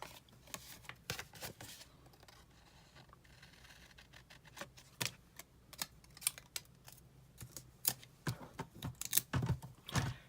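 Scissors cutting excess paper while making a Christmas card, a series of crisp snips and paper rustles in irregular clusters, close and fairly quiet.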